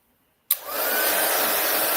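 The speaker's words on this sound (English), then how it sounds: "So let me grab my heat tool here." A handheld heat tool switches on abruptly after a short silence and blows a steady, loud hiss of hot air to dry embossing on a card, nearby and unbroken.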